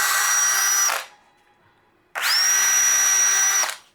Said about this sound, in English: I need to go ahead and screw it on. Okay. I'm gonna do 3 screws on this thing.